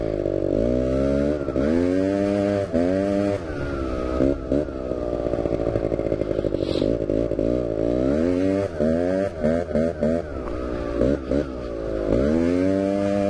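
A quad bike with a newly installed engine revs up and down repeatedly during wheelie practice on uneven ground, its rough engine note rising and falling in pitch over and over, loud and close, with no voices.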